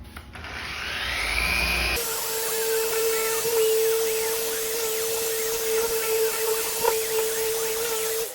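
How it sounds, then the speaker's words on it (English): A close, continuous high-pitched whine of a power sander with 1,000 grit running steadily against a boat surface, with a faint grinding texture and no talking. "So now our sanding is done."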